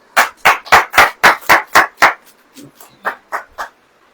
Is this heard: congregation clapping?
yes